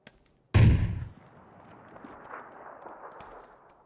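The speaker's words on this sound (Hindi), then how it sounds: "बम गिरने वाला है यार" A bomb drops in PUBG gameplay as a single loud, sharp blast, followed by a long rumbling decay and scattered distant crackles.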